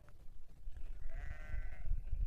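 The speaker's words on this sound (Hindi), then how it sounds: "ये देखिएगा ऊपर ये तमाम भेड़ बकरियां चर रही हैं" Sheep and goats grazing on a hillside near Tehri lake in Garhwal, with a single drawn-out bleat rising over low rumbling outdoor background noise, moderately distant.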